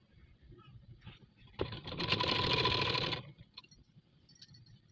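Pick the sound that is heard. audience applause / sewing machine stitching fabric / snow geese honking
sewing machine stitching fabric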